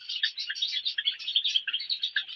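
Busy, overlapping high-pitched chirps from many small birds, a continuous twittering chatter with no pauses, fairly close and steady in volume.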